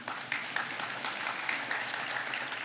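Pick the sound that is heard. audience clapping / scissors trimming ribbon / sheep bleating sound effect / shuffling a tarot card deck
audience clapping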